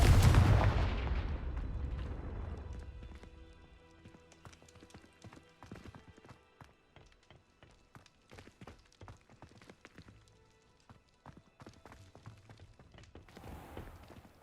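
A Confringo explosion spell goes off in a Harry Potter video game with a loud, booming blast that fades over a few seconds. Scattered crackling and clattering debris follow, then a quieter rumble near the end.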